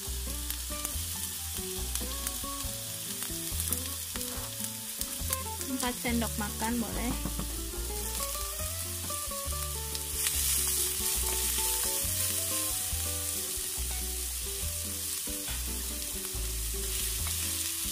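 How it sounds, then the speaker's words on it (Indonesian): Loud, steady sizzling of shallots frying in hot oil with browned garlic, with stirring scrapes throughout and a person speaking briefly in Indonesian over it. "Kita tumis hingga bawang merahnya layu dan harum."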